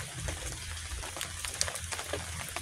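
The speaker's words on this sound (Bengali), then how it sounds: "হ্যাঁ বৃষ্টি হচ্ছে তা কি করবো?" Steady rain falling in a rural Sundarbans setting, a dense continuous hiss and patter with a low rumble underneath, moderately loud and unbroken throughout.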